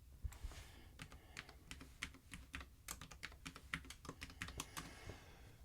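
Password being typed on a computer keyboard, a quick run of crisp, close key clicks in an uneven rhythm, with no talking.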